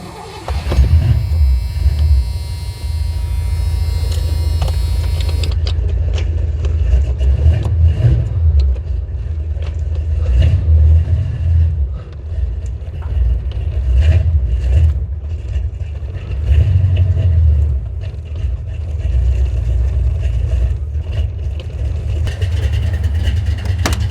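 A 1984 Ford Mustang GT's engine runs steadily with a deep, low rumble and mild revving swells throughout, heard nearby and continuous, with no one speaking.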